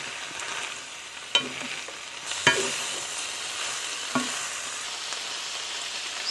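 Broccoli and bean sprouts stir-fried in a pan, a steady broad sizzle with a few sharp scrapes and clanks of the utensil against the pan, close and alone with no talking.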